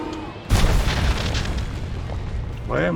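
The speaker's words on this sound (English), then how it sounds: "Why am I running away from explosions?" Explosions go off in the Star Wars: The Old Republic video game, a sudden heavy boom followed by rumbling blasts and debris, with a brief voice near the end.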